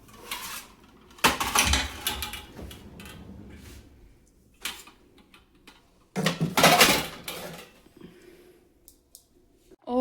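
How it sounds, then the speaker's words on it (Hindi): Kitchen utensils and pots being put away: several loud metallic clanks and clatters in two main bursts, with quieter knocks and rattles between them, close by in a home kitchen. "बर्तन रखूँगी यहाँ पे।"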